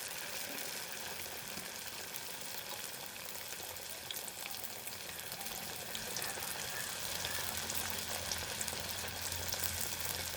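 Pieces of vettu palakaram dough deep-frying in hot oil, a steady dense sizzle and crackle that holds throughout and grows slightly louder toward the end, with no voices.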